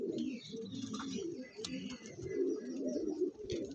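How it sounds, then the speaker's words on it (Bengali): A male pigeon at a pigeon sale in Bagnan, giving low, throaty coos in a short rolling series, near but fairly quiet, with faint background voices. "তো বন্ধুরা এই একটা নর পায়রা দেখুন"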